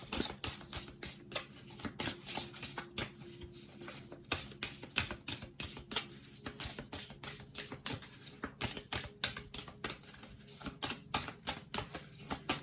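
Oracle cards are shuffled and drawn in a rapid, uneven run of crisp flicks and slaps, close up and fairly quiet, with no voices.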